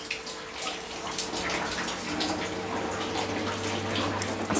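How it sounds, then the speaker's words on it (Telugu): Rainwater pours and drips steadily into a kitchen, a continuous close splashing rush with scattered drip taps and a low steady hum underneath, no talking. "అసలు వర్షం ఇక్కడ చూడండి వంటరూంలో"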